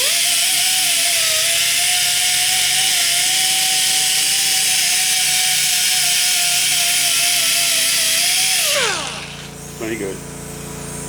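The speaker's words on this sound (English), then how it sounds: "got the old nasty rusty wire wheel on the Ingersoll now" An Ingersoll die grinder spinning a worn, rusty wire wheel against exhaust flanges gives a loud, steady high-pitched whine for about nine seconds, then drops in pitch as it is released and winds down, with a brief remark spoken near the end.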